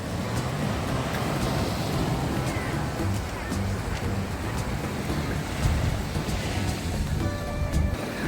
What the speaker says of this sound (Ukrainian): Морічка, ти сьогодні трошки хвилюєшся.